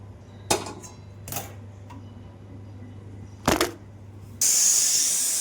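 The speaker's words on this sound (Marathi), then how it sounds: "तर मी भाजीला फोडणी देऊन घेते." Spices for a vegetable curry crackle and sizzle in hot oil; a few sharp clinks and pops come first, then a loud steady hiss of frying takes over near the end.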